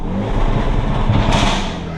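A 2020 Hyundai Veloster N with the Performance Package revs its engine, a loud, continuous roar filling the short burst with a sharper rise near the end, with voices faintly present.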